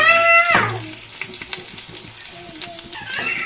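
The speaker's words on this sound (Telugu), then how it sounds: "చూసారా ఇప్పుడు ఫ్రై అయిపోయి కదా" Leftover idli and upma ingredients frying in a hot pan, a sharp hiss bursting at the start then settling into steady sizzling with light stirring clicks and scrapes, close and fairly loud, with a brief voice at the very beginning.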